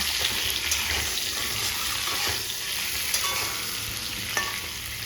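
An egg frying in a pan with turmeric and salt sizzles steadily up close, with a few sharper clinks and scrapes as it is turned over.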